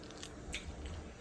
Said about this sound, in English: I'm trying to stop chewing